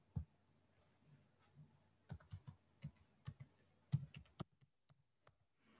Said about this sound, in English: I'm going to type the whole word for you so you can see how it is spelt.